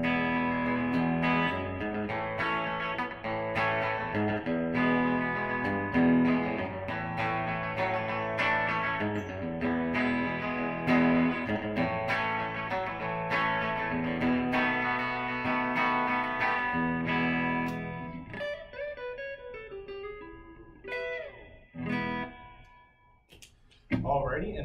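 A Fender Telecaster on the bridge pickup plays through the clean channel of a Boss Katana amp, with steady chords and melodic lines for about eighteen seconds before thinning to a few sparse, quieter notes.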